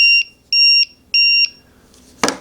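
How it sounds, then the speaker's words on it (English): A TickTime kitchen timer beeps three times in an even rhythm, loud and close, followed by a short clatter as it is handled. "There's your beep."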